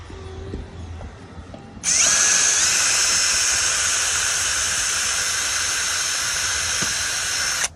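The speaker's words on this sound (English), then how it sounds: "I have a drill bit. It's an 1/8 inch drill bit is what Deckorators is recommending." A power drill fitted with a 1/8 inch bit bores into a deck railing bracket. After a brief quiet start it kicks in with a loud, steady high-pitched whine and hiss that runs unbroken for about six seconds.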